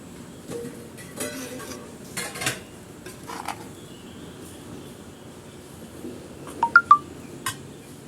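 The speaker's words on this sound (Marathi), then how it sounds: "चांगला व्यवस्थित ढवळून घ्यायचा." A spoon scrapes and knocks against a pot while Konkani tempered rice (phodnicha bhat) is stirred, giving scattered light clinks and a cluster of sharp metallic taps near the end over a quiet background.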